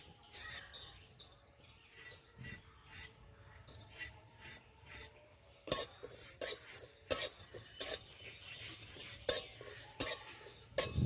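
Whole garam masala with torn cardamom and fennel seeds are stirred in hot oil in a pan, producing repeated sharp scraping and clinking spatula strokes at close range over a faint background, growing louder and busier in the second half.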